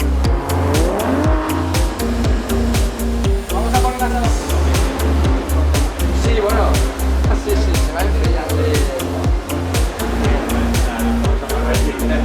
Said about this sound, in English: driving the GT4 to do the parade lap